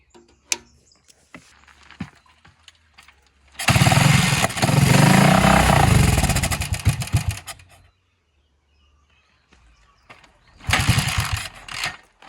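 An old farm motorcycle is started: scattered clicks and fiddling, then the engine catches and runs loudly for about four seconds, cuts out to silence, and briefly fires again near the end.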